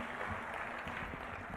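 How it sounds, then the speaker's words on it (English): Audience at a testing-service launch ceremony gives steady, fairly distant applause, an even wash of clapping that holds without breaks for the short stretch. "Let's clap for them once again."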